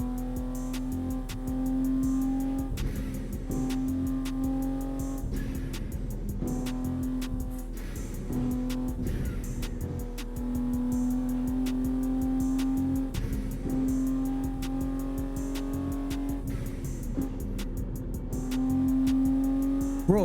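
A racing game car engine in traffic drones and revs steadily and loudly for a long stretch, pitch rising and falling with gear changes, with brief whooshes of passing cars.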